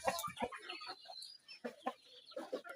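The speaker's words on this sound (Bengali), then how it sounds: "ভিডিওতে দেখাচ্ছি ব্রাহ্মা মুরগি," Columbian Brahma chickens on a farm cluck in short, close bursts with brief pauses between them. No one speaks.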